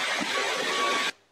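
A Shark Detect Pro cordless vacuum cleaner runs with a steady, loud broadband whir for about a second, folded low to clean under a sofa, then cuts off abruptly.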